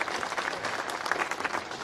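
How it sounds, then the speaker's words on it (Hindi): Clapping from an audience at a stage event, dense and continuous through the short stretch with no voices over it. "जोरदार तालियां बजाकर आवाज दीजिए"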